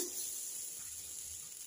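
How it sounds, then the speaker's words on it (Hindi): Steady, faint sizzling hiss of water hitting a hot pan of roasting gram flour, a continuous crackling fry with no talking. "जब मैं इसमें पानी मारूंगी तो छन छन करेगा ये"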